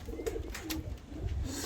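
Pigeons coo softly in a loft, with low, gentle, murmuring calls repeating quietly over a faint background.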